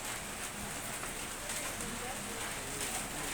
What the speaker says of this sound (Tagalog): Nabot na ako ng ulan.